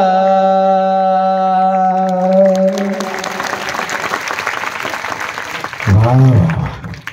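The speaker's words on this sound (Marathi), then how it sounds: "वा किती टाळ्या वाजवता बे तुम्ही" Students break into steady, dense applause for a poet at a Marathi poetry recital. The clapping follows a sustained sung line and carries on for several seconds before a single voice begins speaking over its tail.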